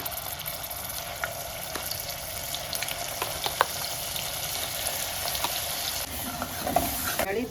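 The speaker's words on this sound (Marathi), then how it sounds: "तेल तापलं की हा मसाला घालायचा," Ground masala paste from the mixer frying in hot oil in a kadhai, with a steady broadband sizzle throughout and scattered scraping clicks of stirring, close and fairly loud, no voices.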